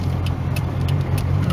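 Nissan N13 Pulsar engine running steadily nearby, a low even rumble with a faint periodic ticking above it, no voices.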